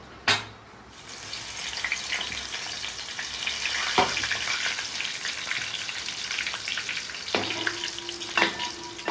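Garlic sizzles steadily in hot oil while making a spicy fried snack mixture, a continuous close crackling hiss broken by a few sharp clinks of a spoon against the pan.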